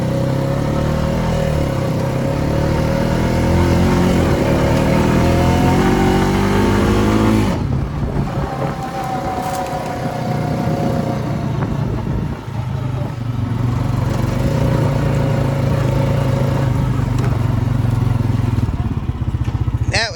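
A loud Honda Rancher 420 ATV engine revs and runs steadily through a short ride, shifting pitch as it accelerates, with rough rumbling throughout.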